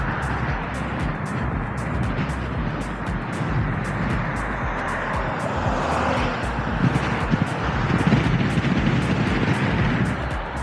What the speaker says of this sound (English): I'm going into some really gusty wind.